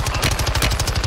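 Rapid automatic gunfire in the video game Call of Duty Warzone 2.0, a loud, close burst of evenly spaced shots rattling continuously with no pauses and no voices over it.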